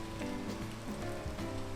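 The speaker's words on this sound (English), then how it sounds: "Since it decided to start raining while we were trying to climb." Steady rain falls in the climbing video game Peak, a soft continuous hiss that runs for the whole stretch beneath looping game music.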